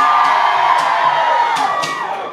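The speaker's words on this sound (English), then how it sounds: "Everybody, give yourselves a round of applause." Concert crowd at a live rock show in Corpus Christi cheers and whoops loudly for a couple of seconds, shouts rising and fading over a steady roar of audience noise.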